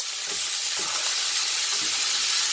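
Smashburger beef patties sizzle in hot fat on a griddle, a loud, dense, continuous hiss close up, with a few faint soft knocks underneath and no voices.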